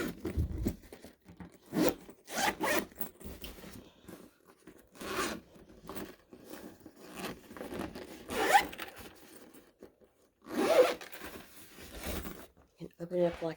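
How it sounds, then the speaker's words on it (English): A zipper on a fabric storage bin is pulled in a series of short, close rasping strokes, with rustling and handling in between, while someone talks. "Very easy to zipper."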